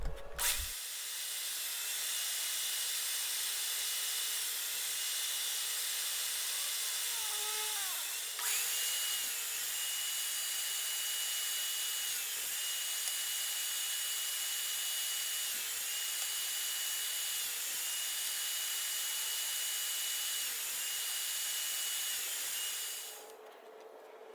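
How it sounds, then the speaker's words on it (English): A table saw fitted with a flat top blade cuts slots in wood, its high motor whine steady and loud for over twenty seconds with the pitch dipping briefly as the blade bites, then spinning down at the end. "I am making 2 passes for each slot, and that will give me about a 1/4 inch gap."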